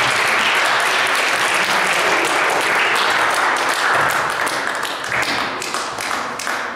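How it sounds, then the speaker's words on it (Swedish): Church congregation applauding itself after a Bible reading, a full dense wash of clapping from many hands that holds steady, then gradually thins and tapers toward the end. "En applåd till er själva."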